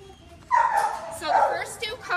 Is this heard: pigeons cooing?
no